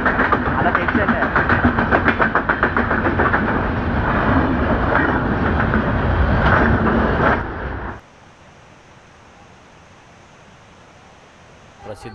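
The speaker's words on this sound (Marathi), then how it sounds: "ट्रेन किती फास्ट आहे बघ." A fast train roars past loudly and close with a steady rattling rush for about eight seconds, then cuts off abruptly, leaving quiet rain-soaked background at a Konkan waterfall outing in Ratnagiri district.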